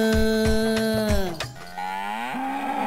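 A dairy cow lets out a long, loud moo close by, its pitch rising and falling before a second lower call begins.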